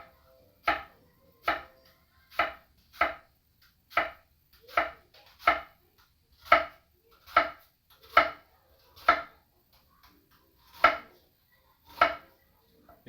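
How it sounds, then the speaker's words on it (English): A knife mincing an onion on a cutting board, with about fourteen sharp, evenly spaced chops ringing out close and clear, with nothing else heard between them. "Yeah, you want to mince the onion."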